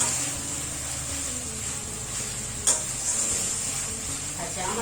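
Masoor dal with fish head and tomato sauce sautéing on low heat, giving a steady soft sizzle with occasional stirring scrapes and one brief sharper clink midway.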